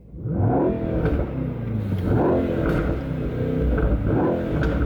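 A Mercedes-AMG E63 S V8 engine revs hard and repeatedly, its deep burbling roar rising and falling in several close, loud pulls.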